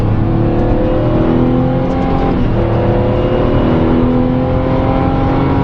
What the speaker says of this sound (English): Okay, about to pull on the highway.